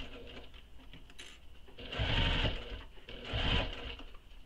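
A sewing machine backstitches through a crossbody bag in two short bursts of rapid mechanical stitching, close and fairly quiet, separated by brief pauses with a faint background hum.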